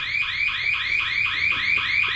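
Electronic fire alarm going off indoors, a shrill repeating tone pulsing in fast regular cycles, steady and fairly loud throughout with no voices.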